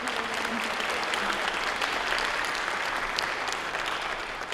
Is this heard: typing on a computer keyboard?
no